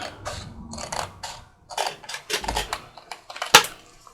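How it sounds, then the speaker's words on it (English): A file folder pocket being slit open by hand, with irregular crisp snips, paper rustles and small clicks in bursts, and one sharp close snap near the end. "I'm just going to cut that open."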